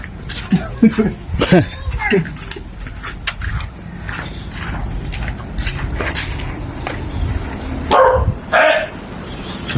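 A dog barks during a pizza delivery by motorbike in Ibaan, Batangas, with several sharp barks and yips close by, mixed with people talking and some rustling and engine noise.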